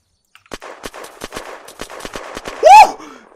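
AK rifle fire in the video game Unturned, a rapid burst of about a dozen sharp, evenly spaced shots that ends in a louder ringing crack, with no talking.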